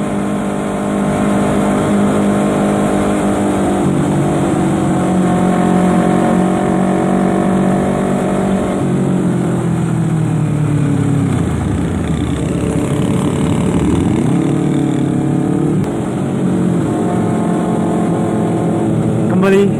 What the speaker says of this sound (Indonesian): Oh, karena ini pakai DB Killer.